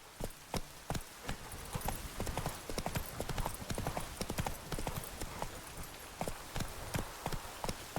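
Roach, Geralt's horse in The Witcher 3: Wild Hunt, gallops with a fast, steady clip-clop of hooves. The hoofbeats are close and continuous, with a brief whinny among them.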